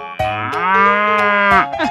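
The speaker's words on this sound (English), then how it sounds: "Cow." A single loud, close cartoon cow moo, one long, steady, tonal bellow that starts abruptly and ends with a short tail.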